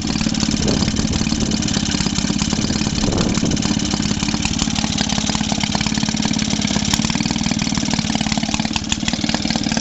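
Petrol engine of a Maytag Model 72D washing machine idling loudly and close, a steady rapid chugging drone running unbroken, with a noisy exhaust.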